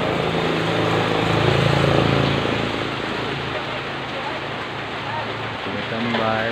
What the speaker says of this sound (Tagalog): Kasi ang ulan.